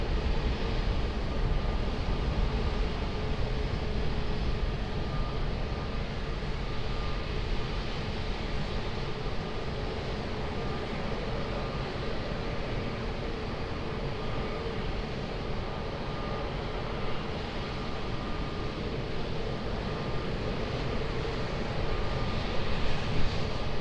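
A plane taking off from runway 20 at Lisbon Airport gives a steady, broadband jet roar that holds level for the whole stretch, distant and continuous with no voices.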